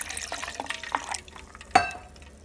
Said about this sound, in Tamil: தண்ணி ஒரு கப் ஊற்றிக்கோங்க.